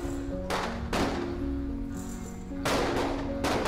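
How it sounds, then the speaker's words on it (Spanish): Gunshots ring out nearby in a Spanish-language TV drama, several sharp bursts spaced irregularly over a tense musical bed. "escucho disparos. Vienen de cerca."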